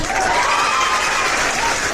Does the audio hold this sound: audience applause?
yes